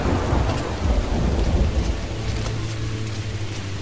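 Heavy rain pours with deep rumbling thunder in the video game Splinter Cell Blacklist, loud and close, a dense unbroken wash of storm noise with no voices.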